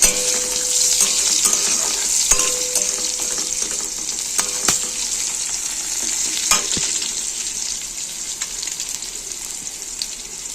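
Chopped onion and two green chillies frying in hot oil as a tempering, with a continuous loud sizzle and intermittent scraping stirs and clinks from the utensil in the pan, no talking.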